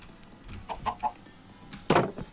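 A Minecraft chicken gives a few short, soft clucks in a quick cluster, followed by a louder, brighter squawk-like cluck near the end.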